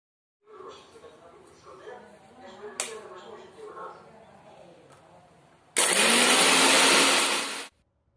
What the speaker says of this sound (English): I put everything in a blender and turn it on.